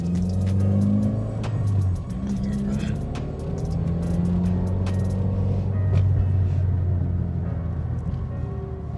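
A 2020 Subaru WRX drives down a road, heard from inside as a steady low engine drone and road rumble that holds for the whole stretch, with a few faint ticks and clicks above it.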